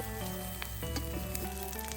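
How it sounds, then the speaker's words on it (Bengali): An egg fries in a wok with a steady, close sizzle and crackle that runs unbroken for two seconds, with no voices. "ডিম কড়াইতে দিয়ে এভাবে কড়াইতে ছড়িয়ে দিয়ে লম্বা করে করে ভাজ করে নেব"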